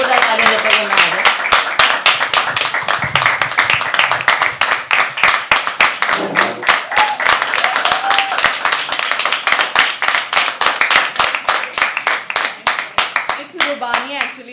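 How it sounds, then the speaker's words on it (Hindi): Sustained, loud audience applause fills a live poetry open mic at The Habitat, dense rapid clapping from many hands continuing for about fourteen seconds with a few brief cheers, tapering slightly at the end. "पहले कलाकार के लिए जोरदार ताली"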